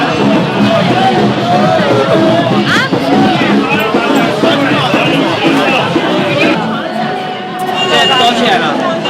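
Dense street crowd hubbub in Xi'an's Muslim quarter, many overlapping voices chattering and calling out close by, a steady loud babble with no pauses throughout.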